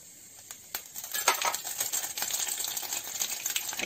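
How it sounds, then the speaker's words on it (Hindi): Jakhiya seeds tempering in hot oil for a traditional Himalayan snake gourd (chachinda) dish, a faint crackle and sizzle with small popping ticks that grows busier after the first second, no talk. "इसमें हम जखिया का तड़का डाल देंगे।"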